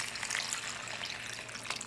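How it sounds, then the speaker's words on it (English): Butter sizzles in a pan as pasta water is poured in, making a steady, fairly close hiss and crackle with soft bubbling bursts and no talking. "going to add in the butter and some pasta water"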